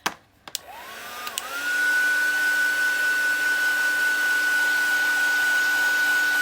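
A heat tool whirs up after a few clicks, its motor whine rising in pitch before settling into a steady, close blowing hum as it heat-sets StazOn stamp ink on plastic.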